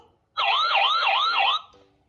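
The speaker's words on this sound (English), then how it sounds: "Police car." A police siren wails in a fast, rising-and-falling yelp, loud and close, lasting just over a second before cutting off.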